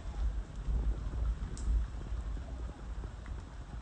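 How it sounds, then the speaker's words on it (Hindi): Heavy monsoon rain pouring down outdoors during a Dak Kawad pilgrimage run, a dense continuous wash of noise with low rumbling gusts, no talk. "गाइस देख सकते हैं बहुत भयंकर बारिश हो रही है अभी"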